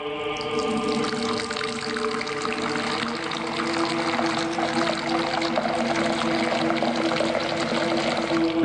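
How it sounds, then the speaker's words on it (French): Water is poured steadily for hand washing, making a continuous close splashing rush that runs without pause for the whole stretch. "Attends, je vais verser l'eau."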